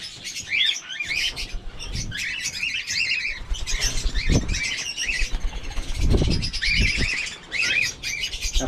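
A bird calls in repeated chirps and squawks up close, with bursts of wing flapping and rustling between the calls, loud and busy throughout.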